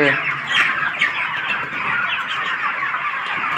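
Many chickens in a poultry farm shed cluck and chirp in a constant dense chorus, loud and close, with a slightly stronger burst near the start.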